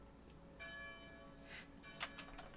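A church bell rings in the city-building video game Kapital: Sparks of Revolution, a few faint resonant strikes with lingering hum, quiet and distant-sounding amid soft game ambience.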